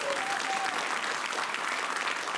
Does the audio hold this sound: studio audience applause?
yes